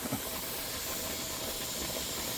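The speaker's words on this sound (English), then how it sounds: "flow of steam here." Steady, unbroken hiss of steam escaping from a pressure canner, even and continuous throughout with no other sounds.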